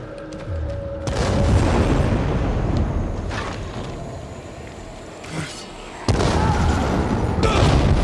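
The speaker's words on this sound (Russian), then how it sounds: "Взорвалось что-то, я не пойму." A loud, rumbling explosion in the video game Dying Light 2 hits near the start and keeps a heavy low roar going, then fades before another booming blast bursts in near the end.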